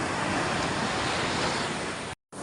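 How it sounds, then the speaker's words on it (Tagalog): Ocean waves crash on the shore in a continuous loud, wind-blown roar close to the microphone. The sound drops out abruptly for a moment near the end before resuming. "Yan lang po ang baksak ng alon."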